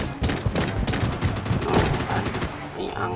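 Gunfire in the mobile shooter Blood Strike during a ranked duo-versus-squad match, a dense run of shots and thuds rattling on throughout, with no speech.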